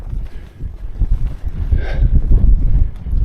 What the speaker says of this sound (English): It's got a bit windy.